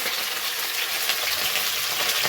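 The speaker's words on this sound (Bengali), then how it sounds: "ওইদিকে ফুলকপি ভাজা হচ্ছে ওই যে" Cauliflower fries in hot oil in a pan, giving a loud, steady, close sizzle and crackle that never stops.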